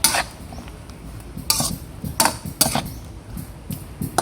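A spoon stirring food in a metal cooking pot, with repeated scraping clinks and knocks against the pot in an uneven rhythm, close and fairly loud, no talking.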